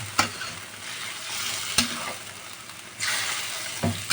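Pork kaldereta sautés in a hot pan, a steady sizzle broken by three sharp scrapes and knocks of the spoon, with the frying swelling louder toward the end.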